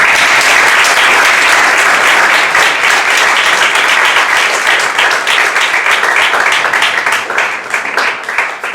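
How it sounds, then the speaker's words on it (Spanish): Loud, sustained applause from a full audience of secondary-school students at a round-table session, a dense wash of many hands clapping close and continuously, easing slightly toward the end. "Le damos un aplauso a Manolo, también se lo merece."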